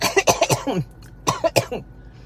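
Two bursts of harsh coughing, several coughs each, close and fairly loud, with a brief throat-clearing rasp between them and no talking.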